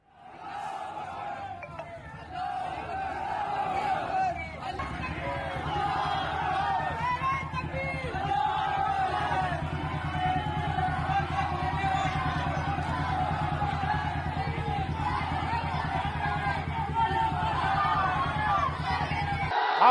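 A large crowd of protesters in Saharanpur roars and shouts continuously, with a dense, steady wall of voices and babble sustained throughout amid unrest with stone pelting.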